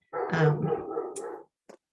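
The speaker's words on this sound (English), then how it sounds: "I don't know if that's your dog" A dog barks and growls in one short, close burst indoors during an online committee meeting, followed by a brief faint yip after a pause.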